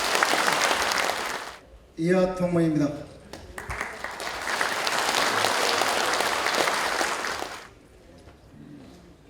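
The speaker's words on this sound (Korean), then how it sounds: "자, 큰 박수 부탁드립니다." Loud applause from a crowd fills the room at an appointment ceremony of a Korean Democratic Party committee, briefly giving way to someone speaking, then the clapping swells again before fading.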